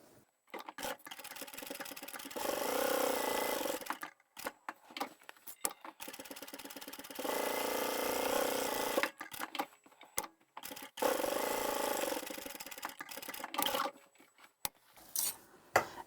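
A sewing machine stitches a pocket onto a fabric tote bag, running in several sustained bursts of steady mechanical whirring, close and fairly quiet, broken by short pauses and handling clicks.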